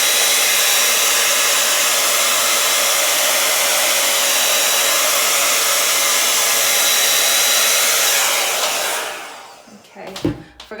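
A hair dryer blows steadily over an acrylic Dutch pour painting, a loud constant broadband whoosh that cuts off near the end, leaving a few faint handling knocks.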